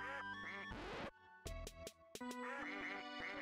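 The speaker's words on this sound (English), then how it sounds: "Ducks? I kind of want the ducks." Cartoonish duck quacks from the video game Athenian Rhapsody come in a few short bursts separated by brief gaps, loud and close over a steady game backdrop.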